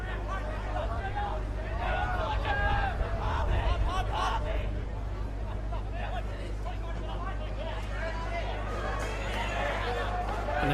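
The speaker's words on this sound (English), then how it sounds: "You can just hear a little bit of noise coming through now." A rugby league crowd in the grandstand at a Country Rugby League rep match gives off a steady, distant hubbub of chatter and murmuring that swells at times, with a commentator talking over it.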